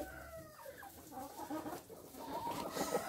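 Chickens and a young rooster cluck and call inside a coop, several overlapping close squawks and clucks in an uneven stream with no talking.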